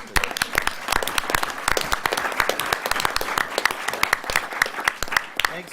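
Audience applause at a village board of trustees meeting, a scattered burst of individual claps from a modest room of people, steady and moderately loud for several seconds with no voices over it.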